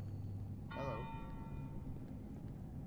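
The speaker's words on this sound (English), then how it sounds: "where the hell is that bell?" A bell rings once in the horror game Cry of Fear, a sharp strike whose bright tone lingers and fades over a low droning background.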